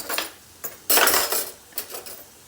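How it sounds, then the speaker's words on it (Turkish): Köfte meatballs being flipped in a pan in a home kitchen: a few sharp metallic clinks and scrapes of utensil against cookware, close and fairly loud, in short bursts with quiet gaps and no talking. "Köftelerimi artık çevireyim."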